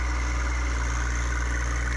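A John Deere 2025R compact tractor with a 25-horsepower engine pushes snow, its engine running as a steady, continuous low drone with a constant hum and no talking.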